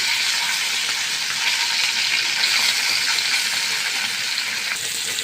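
Jatka fish fries in a pan of hot oil after eggplant, a steady loud sizzle and crackle throughout, with no voices.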